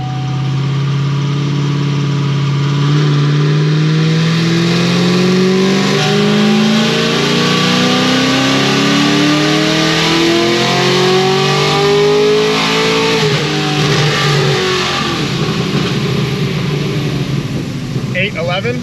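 Procharger supercharged car engine on a dyno, loud and close, idling and then revving hard in a long rising pull before the note falls away, with a rough steady roar throughout.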